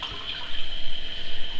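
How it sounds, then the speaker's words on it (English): Apricot wine pours into a glass with a close, bubbly gurgling splash that pulses unevenly over a second and a half, alone without voices. "Let's just pour ourselves out a glass."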